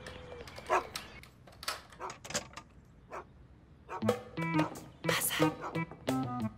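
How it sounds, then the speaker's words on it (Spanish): A dog barks in a dubbed drama scene, with a few short yips and barks over background sound while people speak nearby. "Un perro ladró"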